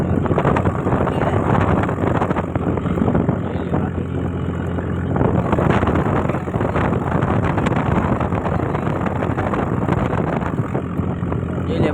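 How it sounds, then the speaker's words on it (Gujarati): Wind rushes into a moving auto rickshaw, a loud, steady buffeting roar with the vehicle's rumble underneath, continuing unbroken throughout with occasional voices. "મસ્ત પવન"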